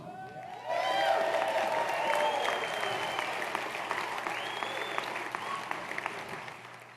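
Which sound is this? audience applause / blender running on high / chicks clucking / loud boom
audience applause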